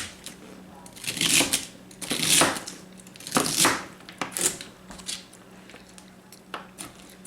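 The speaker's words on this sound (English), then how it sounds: "So I'm going to cut up celery." A knife chops celery on a cutting board in several bursts of crisp, crunchy cuts and scrapes. The bursts are close and moderately loud, with short pauses between them.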